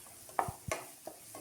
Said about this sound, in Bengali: আদা রসুন বাটা ভালো করে ভেজে নিতে হবে।